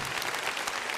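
Audience applause at a Malaysian Amway business success talk, a dense, steady wash of clapping filling the whole moment at even loudness with no voices over it.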